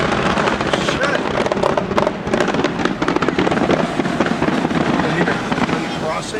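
Fireworks bursting along a city street during a 2007 road trip, a dense run of sharp cracks and pops that continues unbroken, with people talking over the noise.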